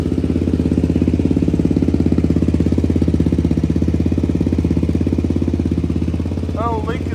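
A Honda 400EX engine swapped into a Polaris RZR 170 runs loud and close at a steady, rapid-firing idle, its even putter holding for the whole stretch with a brief voice near the end.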